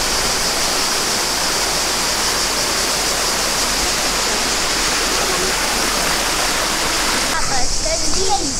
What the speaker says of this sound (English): This is a beautiful, beautiful waterfall.